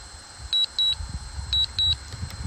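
Two pairs of short, high electronic beeps from an FT Aviator drone's controller repeat at a steady pace, sharp and clear over a low background rumble.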